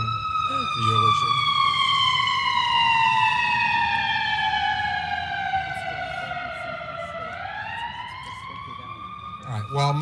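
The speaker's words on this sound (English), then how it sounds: "this would be something she'd complain about, sirens interrupting the eulogy" Emergency vehicle sirens pass outside during a funeral eulogy, one loud wailing tone sliding steadily downward and then rising again, with a voice speaking underneath and low traffic rumble.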